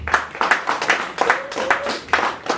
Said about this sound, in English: give yourselves a round of applause for bringing this back